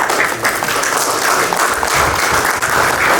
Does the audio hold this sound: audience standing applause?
yes